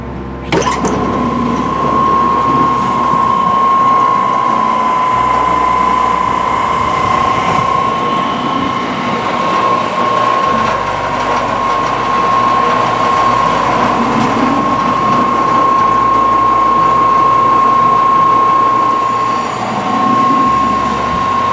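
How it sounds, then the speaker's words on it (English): A Vulcan Sorting Systems TS310 trommel screen runs on a shaft mount gear reducer driven by a 5-horsepower 3-phase electric motor, giving a loud, steady mechanical drone with a constant whine and rattling gear clatter throughout. "shaft mount gear reducer and a 5-horsepower 3-phase electric motor"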